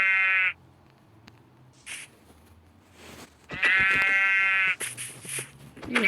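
Sheep bleat in a farming video game, two loud drawn-out cries with a shorter call between them and a further bleat near the end, standing clearly over faint background sounds.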